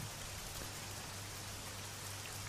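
Steady rain pours down in a constant, even hiss that fills the background. No voices or other sounds break through it.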